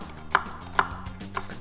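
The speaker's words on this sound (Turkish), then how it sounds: "Aynen böyle doğrayın." Three sharp knife chops through an onion on a cutting board, spaced unevenly and close by, with quiet room tone between.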